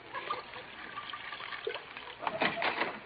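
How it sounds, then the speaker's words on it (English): Cognac pours into a dish in a comedy radio scene, a soft trickling liquid splash that swells louder near the end. "I'll pour a little into your dish."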